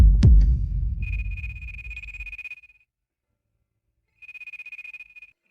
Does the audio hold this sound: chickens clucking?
no